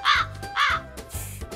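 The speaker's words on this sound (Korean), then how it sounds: "까마귀 소리가 저 새도 휴대폰을 잃어버린 모양입니다" A crow gives three harsh caws in quick succession, the first two loud and close, the last weaker, with a low background hum and no talk.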